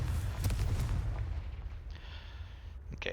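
A Confringo fire spell blasts in Hogwarts Legacy, a dense rumbling burst of fiery explosion noise that fades out over about three seconds.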